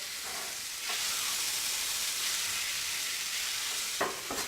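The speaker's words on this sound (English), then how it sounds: "I'm using my cake pans to cook my meat in today." Steady, close sizzling of meat browning in a cake pan, with a couple of brief scraping stirs.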